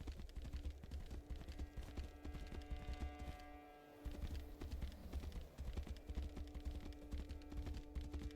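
Horse hooves clip-clop in the video game Tainted Grail: The Fall of Avalon, a steady rhythmic run of hoofbeats over a game soundscape, pausing briefly midway before resuming, with no speech.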